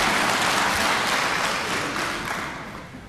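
A crowd at a Korean church mission gathering applauds steadily and loudly, a dense wash of clapping that fades slightly toward the end.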